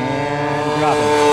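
Giant-scale Corsair model airplane engine throttling up, a loud steady harmonic drone that rises in pitch and level over a moment, with voices heard around it.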